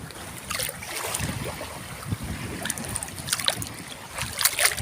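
Waves wash onto a beach in the early morning, giving a continuous broad rushing surf with wind and a few louder surges, with no talking.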